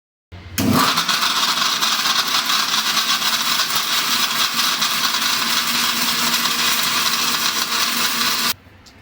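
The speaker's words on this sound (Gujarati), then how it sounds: "રોટલીને પીસવા માટે મેં અહીં મોટી મિક્સર જાળ લીધેલી છે તેમાં રોટલી પીસશું" A large mixer grinder jar pulverising flatbread (rotli) into powder, a loud, steady motor whir that starts abruptly, runs for about eight seconds, then cuts off.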